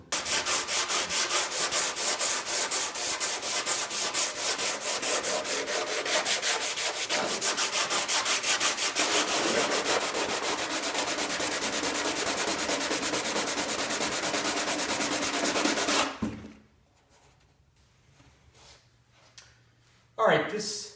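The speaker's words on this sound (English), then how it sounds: "give a light sanding on this whole trunk so we can prime that as well" By hand, body filler on a kit car trunk is sanded in rapid, steady rasping strokes for about sixteen seconds, close and loud, then stops, followed by near silence and a short rustle.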